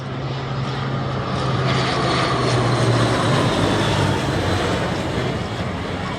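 An ATR72-600 turboprop airliner flies past overhead above Dhaka, a loud, steady propeller and engine roar with a low droning hum that swells and holds throughout.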